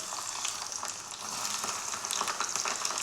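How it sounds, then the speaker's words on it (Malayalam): Chopped garlic fries in hot oil with mustard seeds, giving a dense, steady sizzle and crackle with small pops, close up and with no talking. "നമുക്ക് ചൂടായ എണ്ണയിലേക്ക് ഏറ്റവും ആദ്യം വെളുത്തുള്ളി മുറിച്ചത് ഇട്ട് കൊടുക്കാം"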